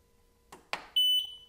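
A couple of quick clicks, then a single high electronic beep from an xTool S1 laser cutter's front button, holding for about half a second and briefly repeating.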